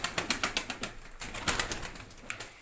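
Pet pigeons in a loft coo and flap their wings, a quick series of sharp wingbeat claps followed by softer flutters and murmurs, close by with no talk.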